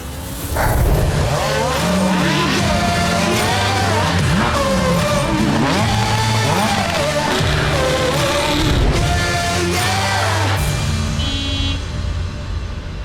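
A 2006 Toyota Prado drives through the Sahara desert, its engine revving loudly and shifting pitch with tire noise and brief squeals, with music-like tones over the drive.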